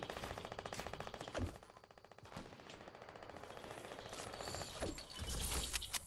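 Rapid gunfire crackles through a Fortnite match, with fast, dense automatic bursts repeating throughout, loud and close, over heavy ambient game noise.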